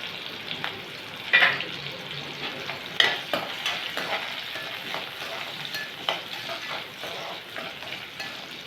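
Ginger and green chilies sautéing in a pan for a coconut-free chutney, a soft steady sizzle broken by a few stirring scrapes and clatters up close.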